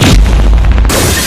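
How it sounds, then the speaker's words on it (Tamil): A string of firecrackers goes off in a loud, dense burst of rapid crackling bangs over a heavy booming rumble, lasting about a second with no voices. "சரவெடி"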